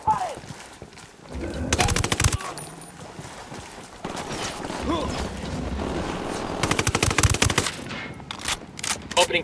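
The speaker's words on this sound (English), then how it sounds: "Opening fire on these fuckers." Automatic gunfire in Tom Clancy's Ghost Recon Wildlands, fought against cartel sicarios, comes in several loud rapid bursts. Sustained game noise and talking run between them.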